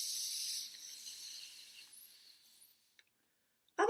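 A voice imitates a steady, soft hiss that fades away gradually, followed by a faint click and a brief vocal sound at the end.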